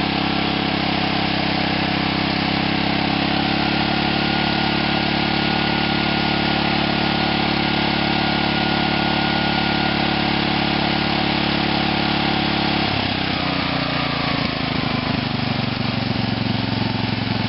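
A small OFNA model engine with its carburetor runs at a steady, buzzy idle, loud and close. Near the end the pitch shifts and wavers as the running changes.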